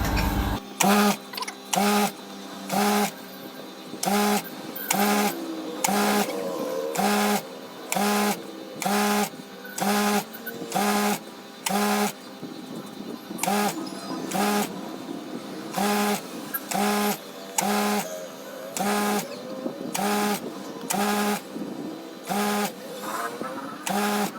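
A sewing machine stitches curtain fabric in repeated loud mechanical bursts, each about a second long, separated by short pauses with a low hum in between.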